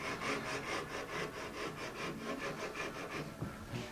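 Hand saw crosscutting guitar body wood for a 1964 ES-335 build, with quick, even back-and-forth strokes in a steady rhythm, close but fairly quiet, with no voices.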